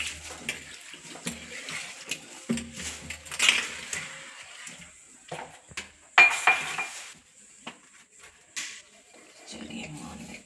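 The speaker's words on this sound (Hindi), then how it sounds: "पहले मैं यहाँ को धो देती हूँ और फिर कर दूँगी ये बर्तन साफ" Breakfast dishes are handled in a home kitchen sink, with intermittent clinks of pots and cutlery and splashes of running water, close and moderate in level, while someone talks over them.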